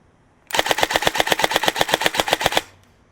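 A G&G SSG-1 airsoft electric gun fires a fast, steady string of about twenty close, loud shots over two seconds, then stops abruptly.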